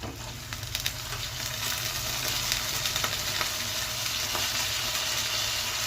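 Raw potato pieces fry in a pan for a potato tomato curry, with a dense, steady sizzle that swells early on and holds, broken by faint stirring clicks.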